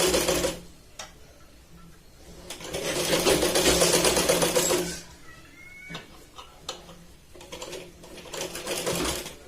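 A sewing machine stitches a katori blouse, running a seam close to the edge to attach the yoke band; the motor whirs in short bursts with one long, loud run in the middle and quieter intermittent stitching after.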